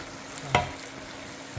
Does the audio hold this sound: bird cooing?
no